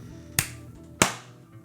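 Two sharp hand claps, about half a second apart, mark the start of a podcast recording in a quiet room, each one a crisp, loud crack that rings briefly and stands alone.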